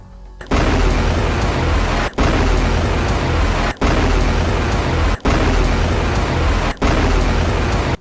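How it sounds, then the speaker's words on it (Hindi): A barrage of rockets fired by Hezbollah at a military base in northern Israel: a loud, continuous rushing roar in several long stretches, each separated by a brief abrupt gap. "इसके बाद मिशहर बेस पर रॉकेटों का जत्था फायर किया गया।"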